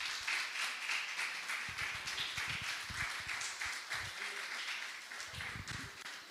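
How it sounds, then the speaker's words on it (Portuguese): Applause from a church congregation during a worship service, a continuous wash of clapping with some louder hand claps standing out, fairly distant and even throughout. "Aplauda o nome do Senhor Jesus."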